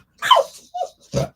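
A female pet dog grunts up close, giving three quick, breathy huffs separated by short silences.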